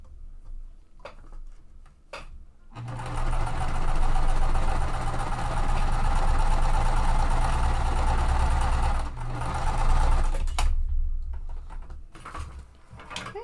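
A sewing machine runs steadily for several seconds while stitching die-cut quilt pieces for a tree-of-life mystery quilt, with its mechanical hum and fast ticking close and fairly loud, framed by brief clicks and handling noises before and after.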